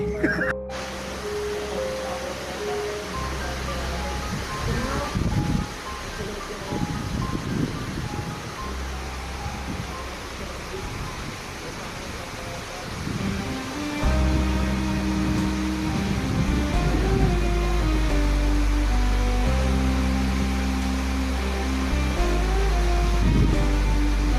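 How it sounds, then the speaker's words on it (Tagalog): Strong typhoon wind from Typhoon Kristine in October 2024 roars loud and continuous for the whole stretch, surging in gusts, with a low steady rumble underneath. "Lakas na naman ang hangin."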